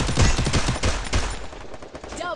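Rapid bursts of USP pistol fire in a video game, loud close shots in quick succession with a few brief pauses, ending with a ringing tail.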